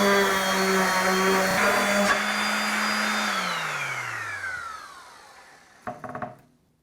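An orbital sander finishing a wooden turkey box call hums with a steady motor whine, then spins down and fades out, followed by a few light knocks.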